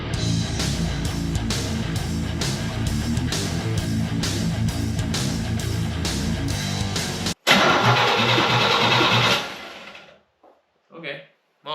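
Engine of a 1972 Pontiac Ventura Sprint cranking over on the starter with a rapid rhythmic churning, then a brief louder burst as it stops, followed by short sounds in near silence.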